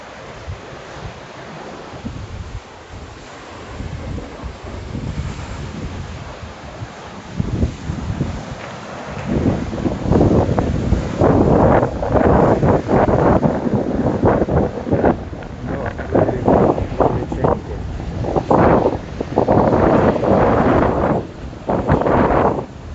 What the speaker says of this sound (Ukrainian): І ось наше північне море.